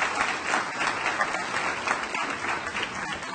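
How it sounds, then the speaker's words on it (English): Loud, sustained applause fills a hall at the Gaston County Schools 2014 Evening of Excellence, a thick, even roar of many clapping hands close by, with no talking over it. "Let's have a round of applause for all of you."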